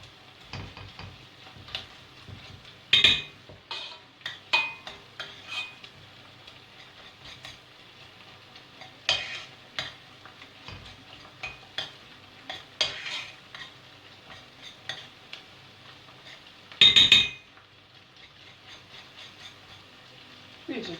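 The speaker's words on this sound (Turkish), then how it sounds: "Biraz kavuruyorum ben soğanla salçaya." Onion and tomato paste sauté in a pan to a soft, steady sizzle, broken by frequent close scraping and knocking of a spoon stirring. Two louder clatters of utensil against pan stand out.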